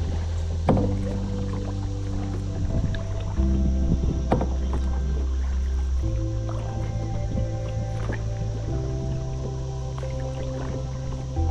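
Kayak paddled on the North Fork of the Kentucky River, with soft rhythmic splashes and drips from the paddle strokes over a steady low hum, close by, with no talking.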